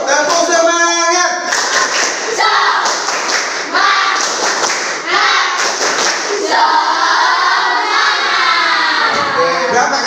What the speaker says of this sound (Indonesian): Yuk kita tepuk semangat.